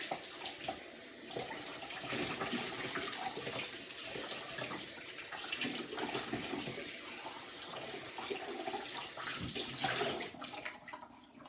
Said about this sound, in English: Also going to rinse out the lid.